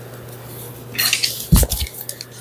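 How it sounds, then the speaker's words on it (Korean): Shepherd's purse stirred and turned in a pot of salted boiling water, with soft sloshing and a sharp clank of a utensil against the pot, close and fairly loud. "물에 잠기도록 이렇게 뒤집어서 휘휘 저어서 바로 꺼내주시는데요."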